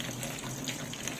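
Tap water running steadily as a three-year-old child washes items at a sink, a soft continuous gushing stream, faint and close, with no talk over it.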